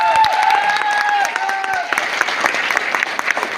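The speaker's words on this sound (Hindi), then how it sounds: "राजेश सर के लिए एक बार जोरदार तालियां" Loud audience applause with dense clapping at a business gathering, fading slightly after the first couple of seconds and mixed with sustained musical tones and some voices.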